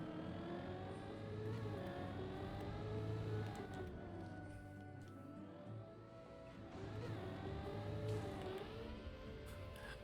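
A car engine in the video game Deep Dip 2 revs faintly and repeatedly, its pitch rising and falling in slow sweeps over a steady low hum.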